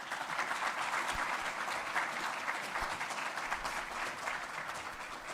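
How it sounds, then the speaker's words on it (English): Sustained audience applause at a data protection talk, steady dense clapping from a crowd that holds for the whole stretch at an even level. "a huge round of applause for Dr. Pavan"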